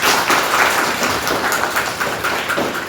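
A church congregation claps along at a preaching service in Karanj Toli, Chainpur, Jharkhand, with dense, continuous applause that is loud and steady throughout, and no voices over it.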